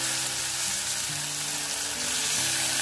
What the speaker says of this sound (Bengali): এবার আমি ঢ্যাঁড়সগুলো খুব ভালোভাবে ভেজে নেব।